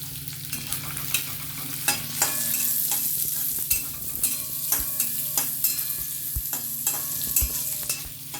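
Onion and garlic fry in oil in a pan, loud sizzling steadily under repeated rhythmic scraping strokes of a spatula, with a low hum beneath.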